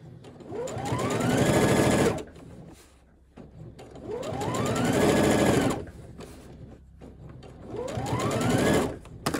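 A domestic sewing machine stitches a seam on men's boxer shorts in three bursts of rapid whirring, each speeding up then stopping, separated by brief pauses, close and clear.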